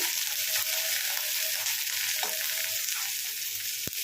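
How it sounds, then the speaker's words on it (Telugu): Onions, green chilli and curry leaves fry in a pan with a loud, constant sizzle, broken by a few light stirring scrapes and one sharp knock near the end. "ఉల్లిపాయ వేగాలండి ఒక రెండు నిమిషాలు అయితే వేయించుకున్నాము"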